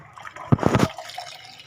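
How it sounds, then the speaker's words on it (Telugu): Tap water poured into a baby food mixture, a short close liquid splash lasting under a second, loud against a quiet room with no talking. "కొంచెం వాటర్ అనేది వేసాను."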